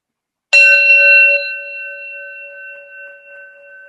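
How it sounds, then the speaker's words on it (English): A gong struck once during a meditation session: a sharp metallic strike followed by a long, steady ringing tone that slowly fades, heard alone in an otherwise quiet room. "And I'll chant the gong once again."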